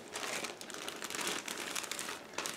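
Plastic bag holding two model aircraft frames for a 1/32 Tempest Mk.V kit being opened, with continuous close, loud crinkling and crackling throughout, no talking.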